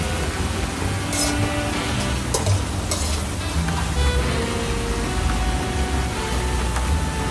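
Food bubbling and sizzling in a pan over an outdoor camp fire in the forest, a steady dense crackle that holds throughout with a few sharper scraping or stirring knocks near the start.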